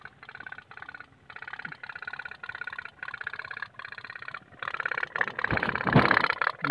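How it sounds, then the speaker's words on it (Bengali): A small steam engine chuffs in fast regular pulses close by, the beat steady and then growing louder and busier toward the end, with no voices. "দেখ স্টিম ইঞ্জিন কেমন চলছে"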